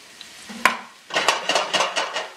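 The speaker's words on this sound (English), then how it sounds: "I'm going to turn my heat down all the way down to low. And then I'm going to go in with some garlic" Garlic goes into a pan on low heat for Caribbean curry chickpeas with potato and spinach: a metallic clank, then a series of scraping, stirring strokes with light sizzle, close and clear, no talking.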